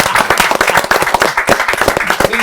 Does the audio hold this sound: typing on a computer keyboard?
no